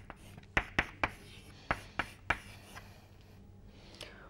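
Marker or chalk strokes on a board during a lecture on compressible flow: a run of sharp, distinct taps and scrapes in quick succession, clear and close, then quieter scratching and a final stroke, with no talking.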